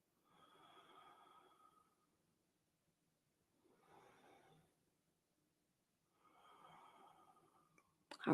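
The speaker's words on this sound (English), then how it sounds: "take 3 breaths" Three slow, deep breaths taken during a relaxing yoga pose, each a soft, airy swell lasting about a second, separated by quiet pauses. A brief knock sounds at the very end.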